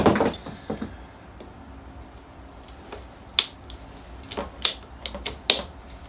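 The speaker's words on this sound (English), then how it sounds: "Let's see if they can cut through here. Oh yeah. Look at that. That ratcheting action works." Ratcheting pruners clicking and cutting through a Norway maple bonsai branch, giving a series of sharp, close snaps and clicks at irregular intervals over a quiet background.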